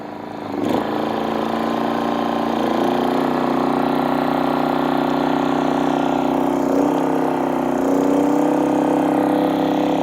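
A GENMAX GM3500Xi open-frame inverter generator running under a load of lights, a steady close mid-pitched engine drone that holds level throughout with a slight shift in pitch partway through.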